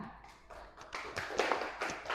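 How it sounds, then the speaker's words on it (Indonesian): A small group in a classroom claps in a brief, uneven round of applause, soft and slightly distant, growing a little louder toward the end. "kita berikan tepuk tangan untuk Jessica"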